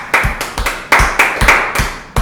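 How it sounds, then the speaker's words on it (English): An audience gives a round of applause: a short burst of irregular, close, sharp hand claps in quick clusters, loud and with no voices over them. "how about we all give him a round of applause"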